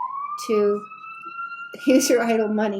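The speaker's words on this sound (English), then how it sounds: "sorry for the ambulance sound" An ambulance siren wails in rising and falling tones, with voices overlapping it partway through.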